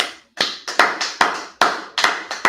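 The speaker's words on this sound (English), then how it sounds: "Okay, clap it up." A class clapping together in a room, a run of sharp, loud, evenly spaced claps in a steady rhythm with no talking.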